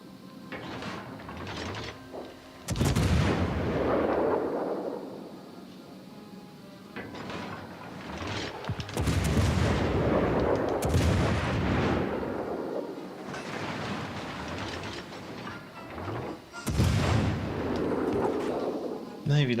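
Armor-piercing shells fire from warship guns in World of Warships: Legends, several loud booming salvos spaced several seconds apart, each with a long rumbling tail, with someone talking faintly under them.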